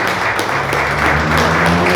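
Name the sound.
audience applause in church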